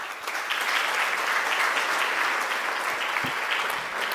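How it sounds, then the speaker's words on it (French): An audience at a cultural policy announcement breaks into full, steady applause after a speech, with dense continuous clapping holding at a loud level throughout. "Merci, monsieur le directeur, et applaudissements légitimes"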